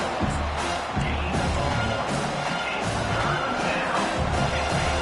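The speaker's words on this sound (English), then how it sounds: "Here comes this home crowd as the defense tries to get off the field on 3rd down." Home crowd in an American football video game roaring on third down as the defense tries to get off the field, a dense, steady wall of cheering and noise with swells throughout.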